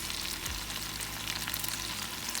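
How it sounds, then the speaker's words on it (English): Coarsely chopped onions fry in a pan while oxtails are being cooked, giving a steady, faint, broadband sizzle with no talking. "we're ready to throw in those coarsely chopped onions"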